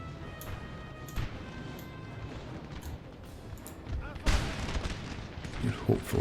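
Regiment musket volleys in the Napoleon: Total War battlefield, crackling gunfire rolling on and off at a distance with a heavier burst near the end, under a steady bed of battle noise.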